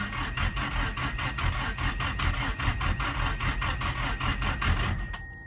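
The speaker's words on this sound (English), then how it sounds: "first crank just to make sure everything is working." Mitsubishi Starion engine being cranked over by the starter, a steady rhythmic churning with repeated pulses for about five seconds, close and loud, then cutting off abruptly without catching.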